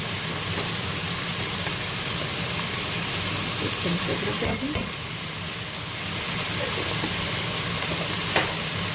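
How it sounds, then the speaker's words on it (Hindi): A steady loud sizzle of garlic and ginger paste frying in hot oil, with occasional spoon scrapes and clinks as it is stirred. "इसको थोड़ा सा हमें भूनना ताकि इनका कच्चापन जो है वो निकल जाए।"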